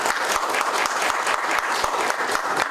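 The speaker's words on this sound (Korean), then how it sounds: "다시 한번 큰 박수 부탁드립니다" Applause from the audience at a 2024 Deokjeong community revitalization forum, many hands clapping in a brisk, continuous patter, moderately loud and unbroken.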